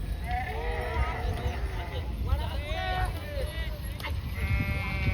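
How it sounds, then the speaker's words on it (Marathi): A flock of sheep in a village bleats repeatedly at close range, with many overlapping wavering calls over a low outdoor rumble while a person talks. "बघा बाळू मामाच्या मेंढ्या"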